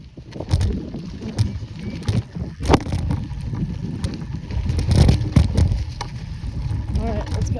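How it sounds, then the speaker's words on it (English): Strong wind buffeting a microphone outdoors on a hill at a BMX dirt bike track, loud gusty rumbles and thumps in irregular bursts, continuous throughout. "It's super windy and bad"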